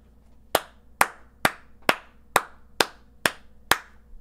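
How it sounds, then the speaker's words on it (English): Eight sharp hand claps at a slow, steady pace, crisp and close, with quiet in between each clap. "Round of applause."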